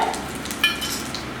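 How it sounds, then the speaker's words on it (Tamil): Mustard seeds, cumin and asafoetida crackle in hot oil for a coconut chutney tempering, a short close sizzle with a faint pop or two. "எண்ணெய் காஞ்சிச்சு கடுகு ரெண்டு ரெண்டு சிட்டிகை ஜீரகம் பெருங்காயம் ஒரு சிட்டிகை"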